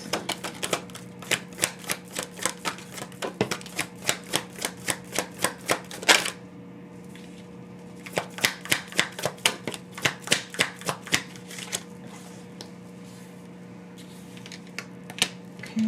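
Tarot cards are drawn and handled at a table, a fast run of crisp card snaps and flicks followed by a short lull and another rhythmic burst, close, over a low steady hum, without speech.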